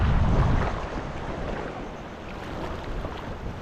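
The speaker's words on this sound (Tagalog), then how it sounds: "Lakas na hangin ah." Strong wind buffets a fishing boat at sea, a broad continuous roar with gusty rushes against the microphone, loudest at the start and then easing to a steady blow.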